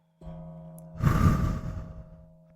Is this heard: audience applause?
no